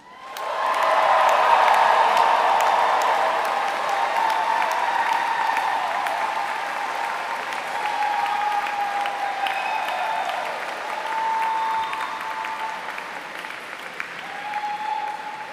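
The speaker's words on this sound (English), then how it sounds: "one more huge cheer of thanks to your friends and supporters" A graduation audience in Canterbury Cathedral breaks into sustained applause and cheering, dense clapping swelling quickly and holding steady with scattered whoops for about fifteen seconds in the reverberant hall.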